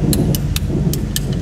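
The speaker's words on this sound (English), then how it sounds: "Gotta love me, a Tennessee thunderstorm" Thunder rolls through a Tennessee thunderstorm as a steady, heavy low rumble, with short sharp bursts recurring above it.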